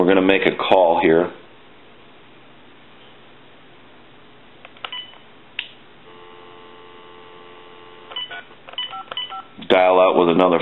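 Dialing on a TA-1/PT military field telephone connected to a regular line, with short clusters of dial tones and a steady hum between stretches of talk at the start and end.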